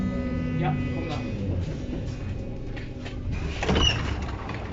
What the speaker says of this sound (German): Der macht Tür auf. Alleine.